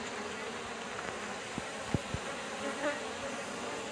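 Aggressive queenless honeybees buzz in a dense, continuous drone, a few insects passing close to the microphone with sharper buzzes, with no talk over them.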